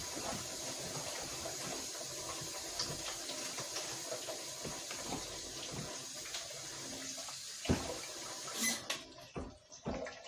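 Water pours steadily into a pot or pan while a New Year's Day meal is cooked, a continuous soft splashing trickle with occasional kitchen clinks, ending in a few louder knocks.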